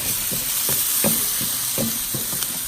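Paella sizzles in a pan over a charcoal fire, a constant bright hiss with soft stirring scrapes and small pops, close up.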